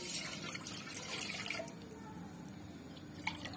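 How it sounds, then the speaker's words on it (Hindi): Water pours and splashes into a pot on a gas stove for kadha, fading to a softer trickle partway through with a few faint drips, fairly quiet and without talk. "और इसमें 2 गिलास पानी डालते हैं।"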